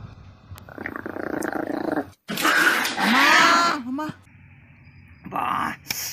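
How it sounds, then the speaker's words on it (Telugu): A dog growls and barks harshly at close range in a Telugu short film about a dog bite, with rough snarling bursts separated by short pauses and people's voices mixed in. "కుక్క వచ్చి అరిచిందిరా"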